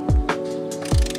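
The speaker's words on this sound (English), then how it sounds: "Now we're going to use that same 10mm socket to remove the 5 bolts on the base plate" A 10mm socket ratchet on a Dodge Challenger 392 Hemi Scat Pack base plate bolt clicks in two quick bursts of pawl ratcheting over a steady background hum, close up, with no talking.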